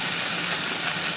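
Seasoned ground meat frying in a pan for spaghetti meat sauce, a dense steady sizzle and hiss, loud and close with no break.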